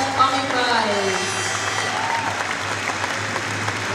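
Sustained crowd applause for the best commis prize winner at the Bocuse d'Or cooking competition final in Lyon 2015, steady clapping with an announcer's voice and a low hum running beneath it.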